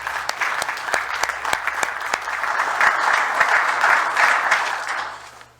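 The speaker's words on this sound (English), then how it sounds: "So if we give them a round of applause too." Applause at a city council meeting, honoring police officers: scattered sharp claps at first that swell into a fuller, steady round from the room, then fade out at the end.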